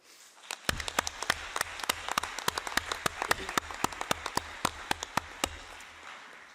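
A round of applause at the UN-Habitat Assembly closing ceremony, with sharp, fairly sparse claps at an irregular pace over a soft background murmur, lasting several seconds.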